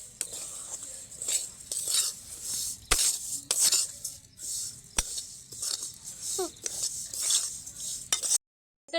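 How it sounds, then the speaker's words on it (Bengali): Sesame seeds rattle and scrape as a spoon stirs them around a pan while dry-roasting for jaggery laddoos, with sharp clicks of metal on metal and a faint sizzle. "4 মিনিট হালকা হাতে নাড়তেই কিন্তু আমার খুব ভালোভাবে হয়ে গেছে তিলটা ভাজা।"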